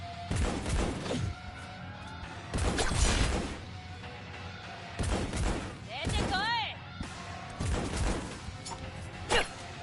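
Bursts of gunfire from a video game firefight arrive in several loud clusters, mixed with crashes and thuds, while excited voices talk over the action.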